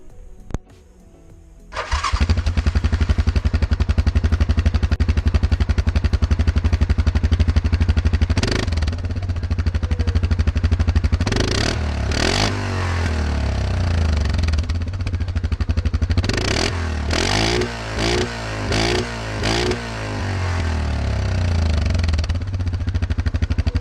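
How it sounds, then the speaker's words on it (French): Single-cylinder Yamaha Grizzly 700 FI EPS quad on its stock exhaust starts up and idles loudly and close, with several sharp throttle blips revving the engine before it settles back to a steady idle. "je vais vous faire écouter le petit son du quad"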